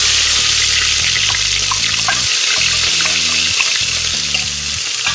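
Onion, green chili and ginger paste dropped into hot oil with cumin for rajma masala, giving a steady loud frying hiss throughout, with stirring clatter and bursts of sizzle, no talking.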